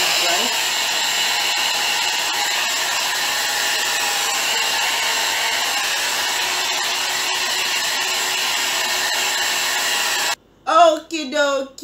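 A hair dryer drying hair blows with a steady, loud, close whir for about ten seconds. It then stops and a person starts talking.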